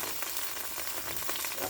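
Meat searing in a hot pan, a steady close crackling sizzle with dense popping throughout, no voices.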